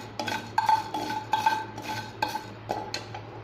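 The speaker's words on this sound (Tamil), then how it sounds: "கடாயை ஹீட் பண்ணிவிட்டு தேவையான அளவு உப்பு, கல் உப்பையும் அதில் போட்டு மீடியம் ஃப்ளேமில் வச்சு லைட்டாக வறுத்து எடுத்துக்கலாம்" Rock salt dry-roasting in a kadai over a medium flame, stirred with a metal spoon that makes repeated scraping clinks and rattles at an irregular, fairly quick pace against a faint background hum.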